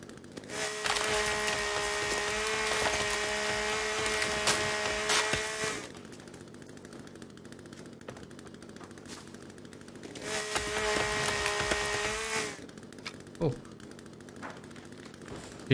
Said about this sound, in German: Seitdem wir die Kettensäge haben, ich liebe es einfach.